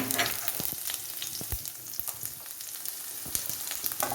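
Chopped onions fry in a pan of oil with cumin, a continuous close sizzle broken by crackles and scraping stirs, loud and without talk.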